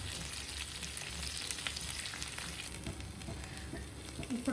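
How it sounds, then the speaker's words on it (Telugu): Stuffed brinjals coated in spice powder fry on a low flame in a pan, giving a soft, even sizzle throughout with faint crackles and a light scrape at the end. "ఇలా వేసేసుకున్నాక లో ఫ్లేమ్లో పెట్టుకుని మనం ఫ్రై చేసుకోవాలి."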